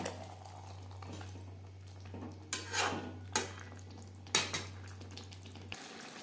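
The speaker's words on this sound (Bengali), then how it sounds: "হাই ফ্লেমে তিন চার মিনিট আলুর সাথে মাংসের সাথে আলু বেশ ভালো করে কষিয়ে নেব" Chicken and potatoes are stirred in a pan over a high gas flame, with a spoon scraping and clinking against the metal in a few sharp strokes over a soft, steady sizzle and a low electrical hum.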